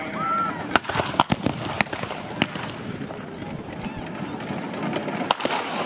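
Gunfire crackles at a First World War battle reenactment with a replica Mark IV tank, sharp scattered shots and bangs at varying distance over a constant background rumble, with a commentator's voice partly heard.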